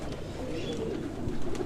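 Several pigeons cooing at once in a big breeding loft, a dense low burbling murmur with a faint chirp, steady and close.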